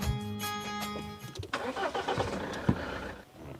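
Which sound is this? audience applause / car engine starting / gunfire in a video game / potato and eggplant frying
car engine starting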